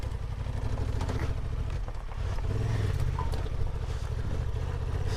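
A dirt bike grinds up a steep dirt hill in first gear, its engine droning loud and steady at close range with clattering and a slight rise in effort midway, no talk.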